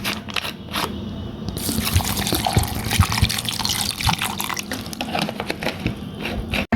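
Water poured into a blender holding dragon fruit, sugar and black salt, a continuous splashing trickle with a few clicks, close and loud, no one speaking.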